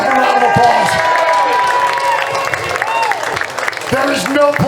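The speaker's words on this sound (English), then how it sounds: "Give yourself a round of applause." A wrestling-event crowd fills an arena with steady, noisy applause and cheering, heard alongside an amplified voice speaking over the room.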